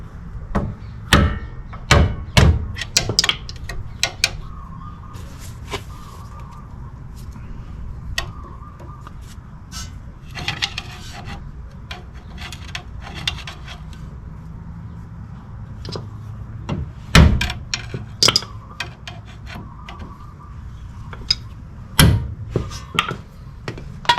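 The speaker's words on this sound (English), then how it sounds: "So I'm going to be bending this lock washer." Sharp metal hammer strikes bend a lock washer on the inner tie rod of a 2012 Toyota Tacoma SR5, coming in irregular clusters of taps with quiet pauses between them in a garage setting.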